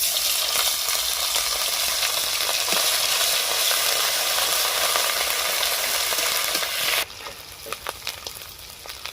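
Nigella seeds and panch phoron crackle in hot oil, a loud, even sizzle that drops suddenly near the end to a quieter frying with a few scattered pops and stirring clicks.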